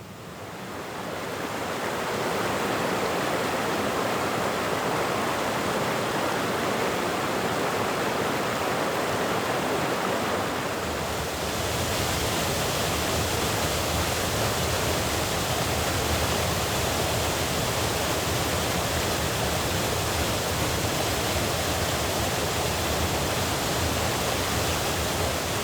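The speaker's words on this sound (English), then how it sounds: "unnamed smaller cascades that are still pretty impressive in their own right" Small waterfall cascades along a forest trail pour in a steady, unbroken rushing roar, fading in at the start and then holding constant and fairly loud throughout.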